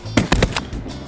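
Shotguns fire at geese during a hunt: four sharp blasts in quick succession, loud and close, with no talk.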